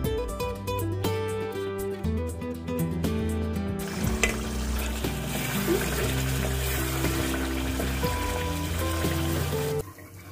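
Water is poured into a simmering chicken chana curry with khoya in a pan, a continuous splashing and sizzling wash that follows a few seconds of background music.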